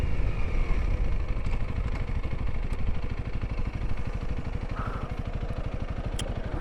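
A 2021 Honda CRF300L single-cylinder motorcycle riding on city streets, its engine thumping in a fast, even pulse with a steady clattery drone, close and continuous.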